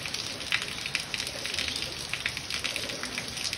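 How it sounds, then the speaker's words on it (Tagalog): Steady heavy rain hissing and pattering on a surface, a dense continuous wash of drops with no voices. "Lakas kasi ng ulan"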